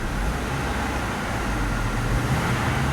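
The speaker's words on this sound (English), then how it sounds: "So you can see when I rev it like that" A 2014 Subaru Forester XT with its turbocharged engine held at a steady, loud low rumble throughout, with no clear rise in pitch and the broadband roar continuous from start to finish.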